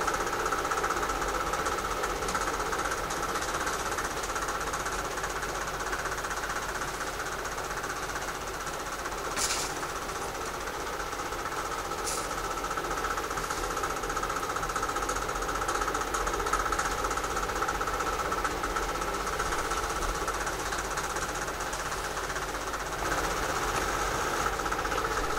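A sewing machine stitches quilt pieces at a quarter inch seam, a fast, continuous mechanical whir and rattle held steady throughout, fairly quiet and close, with a couple of brief clicks.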